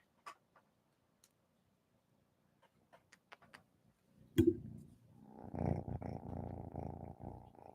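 A cat purrs steadily up close, a low rumbling buzz that starts after several faint clicks and taps and continues to the end.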